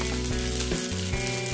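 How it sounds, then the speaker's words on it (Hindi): Boiled potatoes dropped into a pan of frying peanuts for a fasting-day dry vegetable dish, setting off a loud, steady sizzle of hot oil with stirring disturbances throughout, close up and with no talking. "और अब हम इसमें ये उबले हुए आलू डाल देते हैं।"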